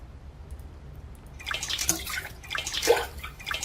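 In the video game AGON, water is poured into a utensil. After a quiet start, it splashes and trickles in uneven bursts, fairly close.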